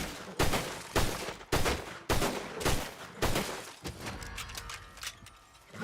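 Gunshots in Red Dead Redemption 2, with about eight loud, sharp reports spaced roughly half a second apart, each with a short decaying tail, then a quieter clatter as the firing stops.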